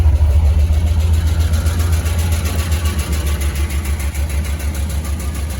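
A 5.0-litre Holden Statesman engine idles steadily with a deep, even low rumble and a faint repetitive ticking, up close with no one speaking.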